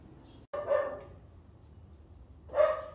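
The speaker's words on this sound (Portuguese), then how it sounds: "latindo sem parar, não está feliz" A dog barks twice, spaced about two seconds apart, moderately close outdoors with a faint steady background between the barks.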